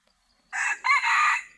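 A decoy rooster crows once, loud and close, a short rising call followed by a longer sustained note, with quiet before it.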